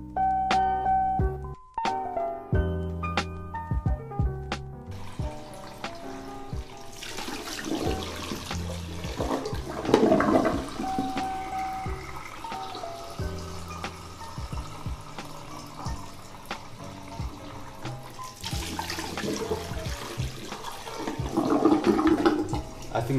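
Clear rinse water pours steadily into a film developing tank while colour film is processed with a C-41 kit, a continuous close gushing and splashing that swells in bursts, with brief tonal sounds near the start.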